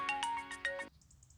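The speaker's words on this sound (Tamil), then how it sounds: "அமல் பேபி தான் ஃபோன் பண்ணுறான்." A mobile phone plays a bright melodic ringtone in a Tamil TV drama scene, a quick run of chiming notes lasting under a second before fading into faint background.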